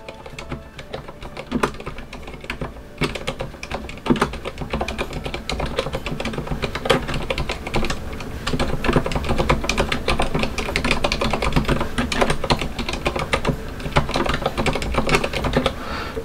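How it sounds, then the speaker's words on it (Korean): Soft, rapid clacking of keys on a Cherry silent red-switch mechanical keyboard, typed gently, continues steadily, muted and close, with a dense, even rhythm throughout. "체리 저소음 적축 키보드를 먼저 쳐보도록 하겠습니다"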